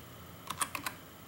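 A few quick keystrokes on a computer keyboard while entering an install command on a Raspberry Pi, four crisp clicks in under half a second, close and alone against quiet background.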